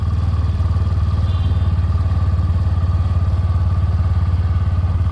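A 2025 Hero Glamour X motorcycle with ride-by-wire throttle runs in gear in power mode, its engine giving a steady close, loud, pulsing drone with a throbbing low rumble and no voices.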